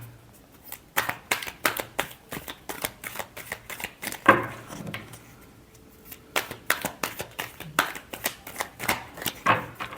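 A deck of tarot cards is shuffled up close, rapid riffling flutters and soft slaps repeating in bursts with a brief pause midway.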